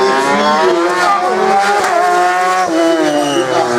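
A silver race car is pushed hard through an autocross slalom, its engine roaring loud and close with rising and falling revs between gear changes and sustained high-pitched whine throughout.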